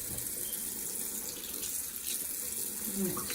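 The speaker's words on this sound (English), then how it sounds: "So I'll turn the water on." Water runs steadily from a sink tap as someone washes their hands, a continuous close hiss of flow with no speech over it.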